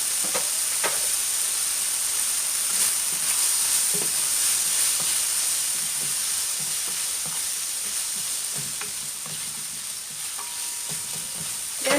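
Japanese korokke croquettes fry in hot cooking oil, a steady close hiss and bubbling sizzle with occasional small pops and crackles throughout.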